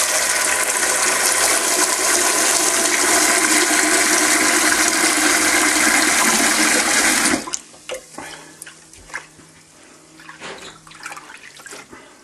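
Rice grains swirled by hand in a pan of water to rinse off starch for Indian takeaway-style rice: a loud, steady rushing swish for about seven seconds, then quieter scattered trickles and small knocks.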